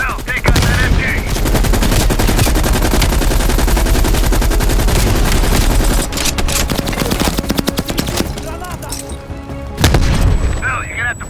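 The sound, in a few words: machine gun fire in video game Call of Duty Black Ops Cold War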